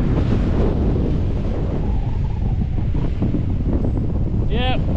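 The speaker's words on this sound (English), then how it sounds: "as soon as you get up here a bit as well, the wind picks up." Strong wind buffets the microphone on the exposed summit of Great Gable in the Lake District, a loud continuous roar and rumble throughout, with a brief faint high whistle or call near the end.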